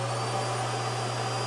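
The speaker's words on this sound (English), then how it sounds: "you can sweep up inside your camper and sweep all your crumbs away with the central vac" A camper trailer's built-in central vacuum system runs with a steady, loud whooshing roar and a low constant hum, unbroken throughout with no voices.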